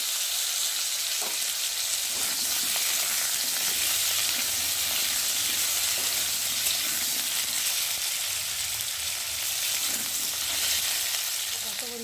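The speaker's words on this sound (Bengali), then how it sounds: "আর এখন আমি কেটে রাখা আলু আর এই যে কাঁচা লঙ্কা দিয়ে একটু ভালো করে ভেজে নেব আলুগুলোকে" Cut potatoes and green chillies fry in a pan of oil over tempered spices, a steady close sizzle with occasional stirring scrapes running throughout, no voices.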